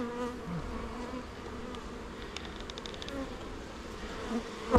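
Honey bees buzz steadily around an open hive during a beekeeper's inspection, a continuous close drone with brief sharper whines from individual bees passing near.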